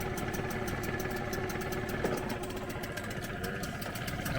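A used outboard motor idles steadily on a small dinghy, a continuous mid-pitched engine drone with an even, slightly pulsing rhythm throughout, close and moderately loud with no talking.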